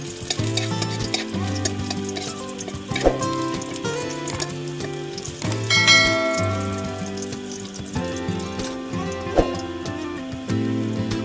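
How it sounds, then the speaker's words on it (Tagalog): Garlic fries in a pan of oil for milkfish adobo with a loud, continuous sizzle, mixed with stirring scrapes and occasional clinks of a utensil against the pan. "Ilagay na natin ang bawang."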